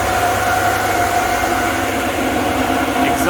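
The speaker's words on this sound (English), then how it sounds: "Got some inline fans there." Inline exhaust fans on a GPU mining rig of seven 1070 cards, producing a constant, loud whooshing drone with a steady low hum, unbroken and close throughout.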